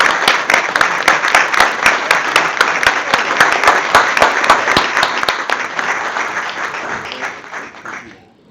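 Steady, dense clapping from a city council meeting audience fills the room for several seconds, loud and continuous, then thins and fades out near the end.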